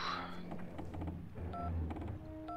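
In the video game Syberia II, a mobile phone is dialed: a rapid run of short keypad tones, then a few separate beeps as further digits are pressed, faint and under low background sound.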